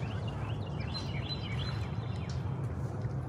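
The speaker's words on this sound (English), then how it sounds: "I hear birds" Faint bird chirps and tweets come from a distance over a steady low outdoor rumble, scattered and irregular, on a farm in the morning.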